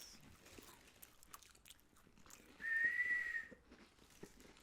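After eating saltine crackers, a person manages a thin, steady whistle tone lasting about a second, set against quiet background rustling.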